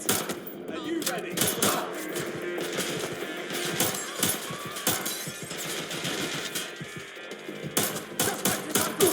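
Gunfire in Watch Dogs Legion rattles as sustained bursts of automatic shots, with glass shattering and crashes mixed in and brief shouted voices over the fight.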